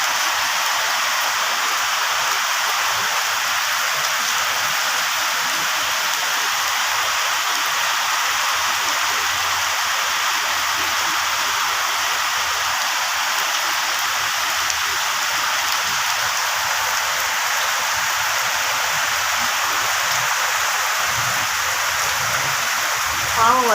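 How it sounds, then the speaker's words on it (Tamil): Steady rain pours down in a village, a continuous broad hiss of drops on surfaces holding evenly through the clip, with faint background voices now and then. "மழை பெய்யுது."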